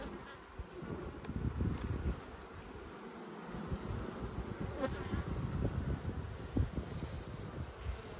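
Honey bees buzz steadily around an open hive during an inspection of a large, re-queened colony, a dense, continuous hum close to the microphone with slight wind noise underneath.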